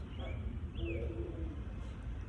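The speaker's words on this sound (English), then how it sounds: "Hear the birds tweeting" Outdoors, birds call in the background, soft cooing and a few thin chirps, faint and distant under low ambient hum.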